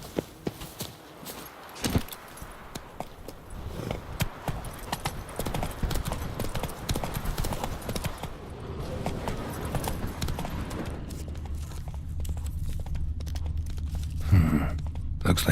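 In The Witcher 3, a horse's hooves clip-clop in a steady walking rhythm, close and continuous, with ambient outdoor sound and a brief snort near the end.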